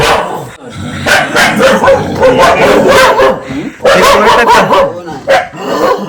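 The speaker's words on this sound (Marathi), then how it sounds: "आम्ही आलोय म्हणून सगळे कुत्र्यांचा दंगा बघा किती तो" Several village dogs bark and yip excitedly at arriving visitors in a Konkan village, a loud, busy chorus of overlapping barks close by, with some voices in the background.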